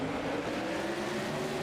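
Modified race cars roar off at the start of a race, a steady blend of engines droning loudly together throughout with no voices over them.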